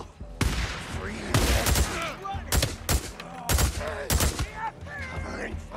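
Gunfire in the video game Days Gone: repeated loud bursts of shots in quick, uneven volleys, mixed with brief voices and game sounds.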